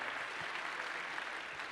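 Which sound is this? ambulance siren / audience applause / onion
audience applause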